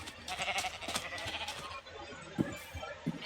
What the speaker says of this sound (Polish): O, owca.